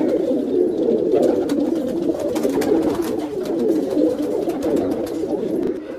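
Pigeons coo in low, soft, overlapping murmurs in a pigeon loft in Vikroli, Mumbai, continuous and close, with faint light clicks and rustles in the background.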